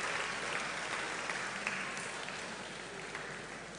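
A church congregation claps for a birthday at a Sunday service, a dense steady patter of many hands that carries on without a break and fades slightly toward the end.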